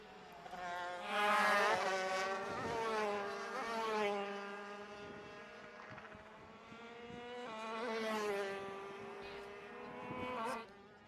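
Go-kart engines whine in a ROK championship race at Sonoma, one kart tailing another on the bumper, pitch rising and falling through shifts and corners as several engines buzz close and loud.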